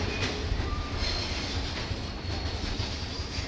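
Cement freight train cars rumble and clatter steadily as they are shunted through a silo yard at a Thai railway station, a continuous close rolling noise with faint squeals of wheels on track.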